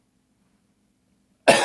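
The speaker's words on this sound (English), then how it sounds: "I was really trying to suppress that cough that whole time because I could feel it building up." A single sudden, loud cough bursts out at the very end after near silence.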